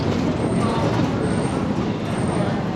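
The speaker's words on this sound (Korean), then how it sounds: "이렇게 관광열차도 다녀요." A tourist train rumbles past nearby in Montmartre, Paris, a loud, steady roar of wheels and engine that holds for the whole stretch.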